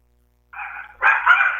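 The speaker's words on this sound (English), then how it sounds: "My dog's going crazy here, Mike." A dog at home barks twice in quick succession, loud and close: a short bark, then a longer, harsher one.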